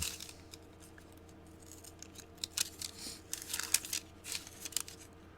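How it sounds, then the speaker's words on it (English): Scissors snip through the corners of a homemade wet palette, a short run of crisp, close cuts with faint paper crinkling between them, quiet and without talk. "You kind of cut the corners down"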